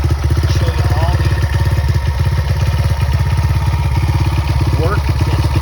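A 1973 Honda XR75 motorcycle engine runs close and loud at a steady, fast putter after a first-kick start, with brief throttle blips, and a person speaks over it.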